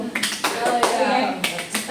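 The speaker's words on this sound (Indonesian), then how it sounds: "Kalau ibu bilang tepuk 1, teman-teman tepuk 2." Students clap their hands during a counting game in a physics classroom, a few close, loud claps in short bursts with a teacher's voice and children talking between and over them.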